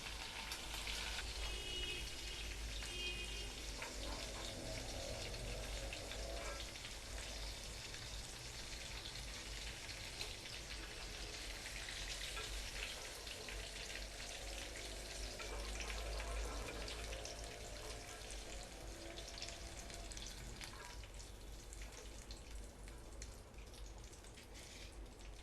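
Prawns frying in hot oil in a pan, a steady dense sizzle and crackle with fine spattering pops running continuously and fairly close throughout, no voices.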